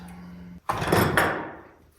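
A wooden drawer slid into a budget-built floating nightstand, a short thump followed by a rising, rumbling scrape as it glides in, close and fairly loud, preceded by a steady low hum.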